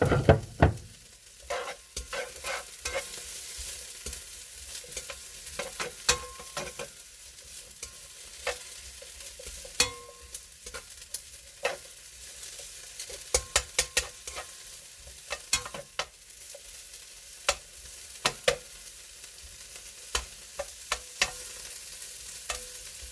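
Shrimp with broccoli, vegetables and chives stir-fry in a wok under a continuous sizzle, punctuated by frequent sharp scrapes and clacks of a utensil tossing the food, close and steady throughout.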